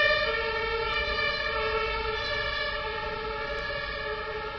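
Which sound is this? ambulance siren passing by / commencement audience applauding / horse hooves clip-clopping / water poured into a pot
ambulance siren passing by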